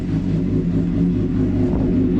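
A 2009 Suzuki GSX-R 750 K9 motorcycle engine idles while warming up, a steady close low rumble with no talking.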